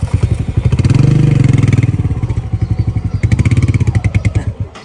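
Motorcycle engine running close by with a steady pulsing idle that rises into revving and chugging as the bike pulls away, plus a few clunks and thuds.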